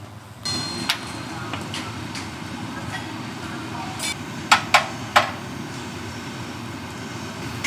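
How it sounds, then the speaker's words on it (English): Several sharp metallic clanks from a hammer safety check on a Russian Trans-Siberian sleeper train ring out over a constant low rumble and murmuring voices, with three hammer strikes in quick succession near the end. "the safety check consists of a bang with a hammer"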